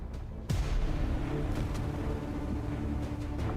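Gunshot in the XCOM 2 video game, a single sharp booming report followed by a rumbling tail and faint ambient game noise.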